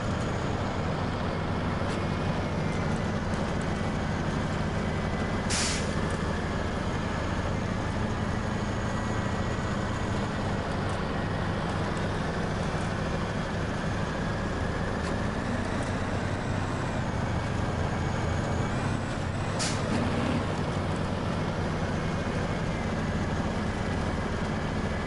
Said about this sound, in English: Because I already bought the DLC that had this truck in it.